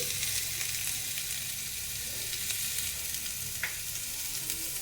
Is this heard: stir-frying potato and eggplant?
yes